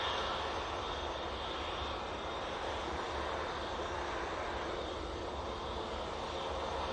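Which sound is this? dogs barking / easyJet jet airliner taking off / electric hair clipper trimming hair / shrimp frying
easyJet jet airliner taking off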